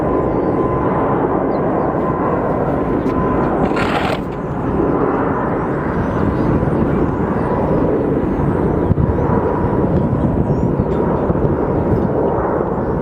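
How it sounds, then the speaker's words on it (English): A Delta Boeing 757 airliner departs, its jet engines giving a loud, sustained broadband roar that stays steady throughout with no talk over it. "we should be getting one of our Delta 757s that's going to be departing"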